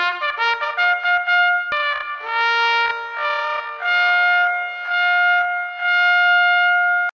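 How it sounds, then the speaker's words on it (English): A synth horn opens a song with a slow, bugle-like melody, clear sustained tones stepping between a few pitches with slight echo, played alone. "the synth horn at the beginning of the song sounds eerily like a slowed down military bugle call"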